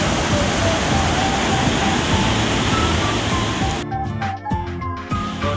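Waterfall among trees at a pleasant outdoor spot, a loud continuous rushing roar filling most of the time, then dropping away to quieter sounds and faint voices near the end.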